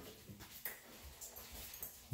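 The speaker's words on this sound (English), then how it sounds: "Forgive my dogs. They're stupid." Dogs in a house whimper faintly in the background, a few thin, scattered whines and yips at low volume.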